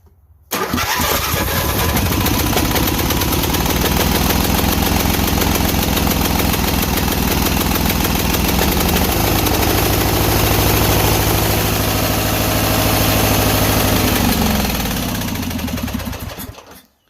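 Scotts 1542 garden tractor engine, just reinstalled spark plug, fires up and runs loud and steady, a close droning rumble that holds for about fifteen seconds, with the revs shifting midway before it cuts out near the end.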